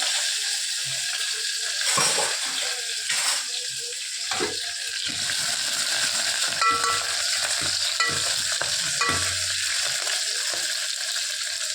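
Small onions (shallots) fry in a pan for brinjal kadayal, a loud, continuous hissing sizzle with occasional stirring scrapes, close up and with no voices.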